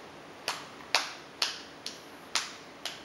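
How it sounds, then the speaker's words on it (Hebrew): A nine-month-old baby girl claps her hands for the first time, six sharp, separate claps spaced about half a second apart, close and fairly quiet with no talking. "היא מוחאת כפיים"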